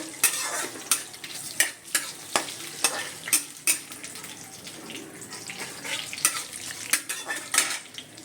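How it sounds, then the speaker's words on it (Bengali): Food fries in a pan while a utensil stirs it, with repeated sharp scraping clacks at a steady pace over continuous sizzling, close and fairly loud. "ভালো করে নাড়বো।"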